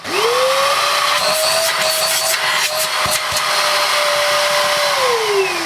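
Hoover Junior Athyss ST226F stick vacuum cleaner running, the motor whining up to a loud steady pitch with a rushing suction hiss and scattered rattles, then winding down near the end, close by.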